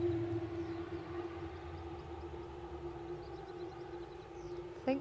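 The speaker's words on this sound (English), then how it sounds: "So we think we've got a chopper startup in there" A helicopter engine starting up at Aberdeen airport: a steady, sustained whine sits over a continuous low rumble, holding level and fairly close throughout, with no voices.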